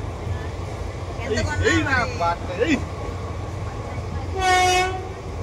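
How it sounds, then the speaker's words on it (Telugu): A train rumbles past with a low steady roar, its horn sounding briefly near the end, while passengers aboard another train chatter over it. "అటు రైలు పోతుంది."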